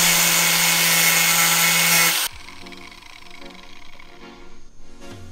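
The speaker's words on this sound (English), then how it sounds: "If I cut a groove in that bolt" A power tool cuts a groove into a Maserati badge bolt: a loud, steady high-pitched grinding whine for about two seconds, then it stops abruptly, leaving faint rustling and low handling noises.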